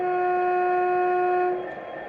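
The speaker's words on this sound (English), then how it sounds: "We'll go for the low air horn." Low air horn of an Accurascale Class 66 OO gauge model locomotive, a steady two-tone blast held for about a second and a half before cutting off, loud and close with no talk.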